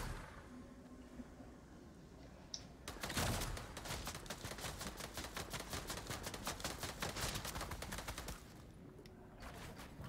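Rapid video game gunfire, a long stream of crisp automatic shots fired in quick succession for several seconds after a single early pop, fairly close and loud.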